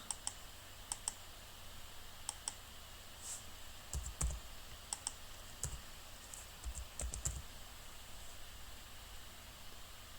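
A password being typed on a keyboard: a sparse run of light key clicks, some single and some in quick clusters, over a steady hiss of background noise, with no voices.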